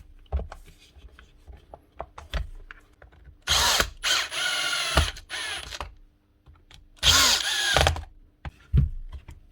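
A repaired power tool fitted with a new brush and armature whirs up in two loud, close bursts of a couple of seconds each, separated by clicks and handling noises.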